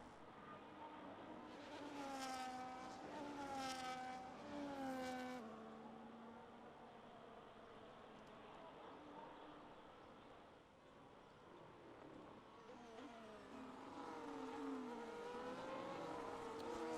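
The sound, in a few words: race cars driving and sliding in a racing video game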